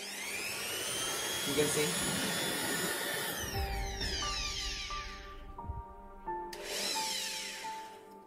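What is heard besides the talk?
Jakmister 700W electric air blower running at minimum setting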